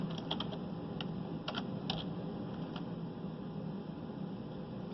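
Typing on a computer keyboard while programming an industrial robot: short bursts of quick key clicks near the start and around two seconds, over a steady fan-like hum, then only the hum.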